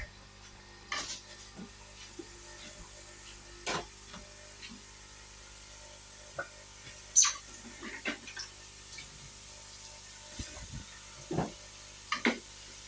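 Faint sizzling of lamb kofta in a frying pan, with scattered pops, crackles and light scraping clicks over a quiet background hiss.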